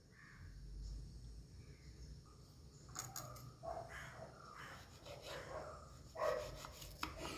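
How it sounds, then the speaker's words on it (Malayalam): Knife chopping the fleshy nutmeg fruit finely on a board: a run of sharp, close taps and cuts in the second half, after a quiet start with faint background noise. "ഇത് ചെറുതായിട്ടൊന്ന് അരിഞ്ഞെടുക്കാം."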